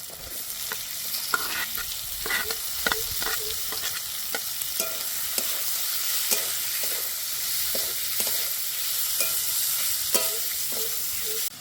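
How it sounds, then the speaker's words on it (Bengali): Garlic and chopped onion fry in a pan with a steady bright sizzle, while a utensil stirs in repeated scraping strokes throughout, up close and with no speech. "রসুনটাও একটু ভেজে নেব। এইবার দিয়ে দেব পেঁয়াজ কুচি।"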